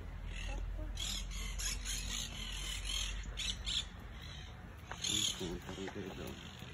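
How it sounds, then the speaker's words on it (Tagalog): Many pigeons at the Santuario della Madonna del Divino Amore in Rome, with scattered bird calls and flutters in an open courtyard while people talk nearby. "Daming kalapati."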